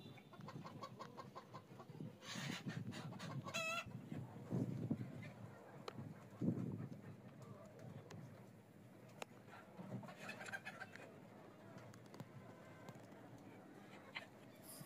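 Fayoumi hens on a rooftop farm cluck and cackle in scattered bursts, fairly faint and close, with a few sharper calls standing out against the quiet.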